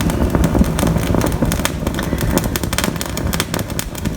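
Flames crackle and spit loudly on resin coasters coated with alcohol inks, a dense run of sharp pops and sputters with no talk over it.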